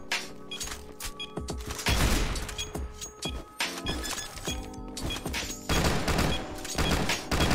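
Rapid bursts of Roblox gunfire crack and thud in quick volleys, mixed with smashing, breaking impacts, loud and dense throughout with a brief lull near the middle.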